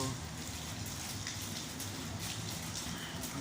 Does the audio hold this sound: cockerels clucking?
no